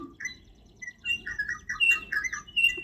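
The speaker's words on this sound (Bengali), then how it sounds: "তো গতকালকে বলেছিলাম যে অনেক বুলবুলি আসে দেখাবো" Bulbuls call from a drumstick tree in a rooftop garden, a lively run of bright chirps and short whistled notes, fairly close and overlapping, with no voices.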